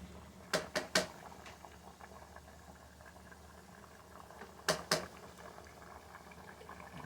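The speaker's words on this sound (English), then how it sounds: "So I'm gonna let it bubble out for another 10 minutes" Beef stew sweetened with brown sugar simmers in a pot, a faint low bubbling punctuated by a few sharp pops in two short clusters.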